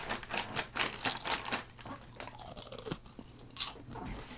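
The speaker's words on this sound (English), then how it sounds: "It's a nice crunch. It's got like that puffy crisp." Crunchy puffed beet snacks being chewed up close, a run of crisp irregular crunches and bites, fairly loud with no talk.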